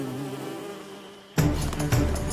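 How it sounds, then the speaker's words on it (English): A low droning buzz of cartoon bees from My Little Pony hums steadily, then a louder, rougher swell of buzzing takes over for the final second. "Flash bees!"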